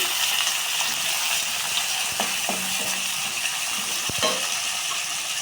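Onions and green chilies sizzle steadily in a pan for a Tamil dalcha kuzhambu, a constant bright hiss broken by a few scraping, clicking strokes of a spoon as they are stirred.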